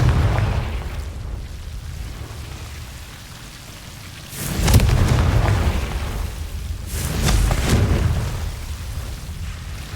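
Blasting spell explosions from Hogwarts Legacy, two heavy booming bursts with a rumbling low-end tail, each swelling loud then fading, over a constant rain-like background hiss.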